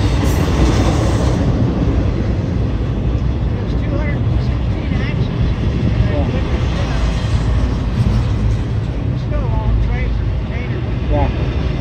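A northbound CSX freight train made up of containers and tank cars passes close by on track one with a loud, steady rumble and rail clatter throughout. Voices may sit faintly underneath.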